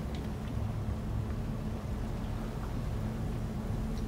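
A twin screw inboard/outboard boat engine runs with the left throttle forward while docking, a low, steady rumble with a faint hum, moderately quiet and continuous throughout.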